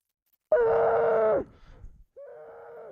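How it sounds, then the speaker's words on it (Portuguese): A man caught in an avalanche screams in desperation: one loud, strained cry lasting about a second, then a pause and a fainter second wail. "Nossa, que desespero, mano. Eu vi esse cara gritando aqui,"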